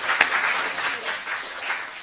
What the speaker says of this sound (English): Round of applause, Peter, everyone.